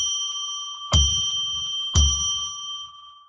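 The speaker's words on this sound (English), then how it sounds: "we're going to ring a bell 3 times now so that we can declare sacred space" A bell struck at regular intervals, each bright ding ringing on with a sustained metallic tone that carries over from a strike just before the start, close and clear in an otherwise quiet room.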